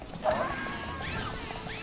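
A horse neighs in the video game Happy Wars, a brief whinny rising over a steady game background, moderately loud and with no talk.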